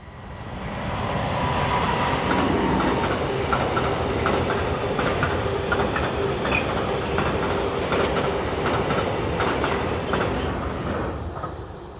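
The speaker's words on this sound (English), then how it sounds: "275019 heads a northbound pressure tank train" Freight train led by locomotive 275019 hauling pressure tank wagons northbound near Businghoven, a steady loud rumble with rhythmic clickety-clack wheel beats and faint squeal that swell in and fade at the end.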